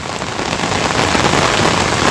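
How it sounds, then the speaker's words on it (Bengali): Steady, dense rain pours down with gusting wind during an outdoor sports match between office teams, a loud, even hiss that stays close and continuous with no voices. "এই বৃষ্টিতে খেলা হচ্ছে"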